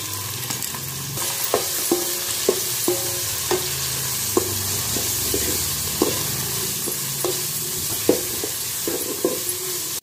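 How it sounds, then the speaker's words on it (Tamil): Onions and tomatoes fry in an oiled pan while preparing a brinjal and drumstick fish curry, giving a constant loud sizzle with frequent light ladle taps and scrapes as the mixture is stirred. "வெங்காயம் நல்லா கோல்டன் கலரில் வதங்கிடுச்சு அதுக்கப்புறம் தான் தக்காளி சேர்க்குறேன்"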